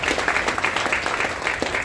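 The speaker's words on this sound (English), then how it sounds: "Give yourself a clap." An audience at a Georgia district candidates' forum claps loudly and steadily, many hands giving a dense, continuous patter.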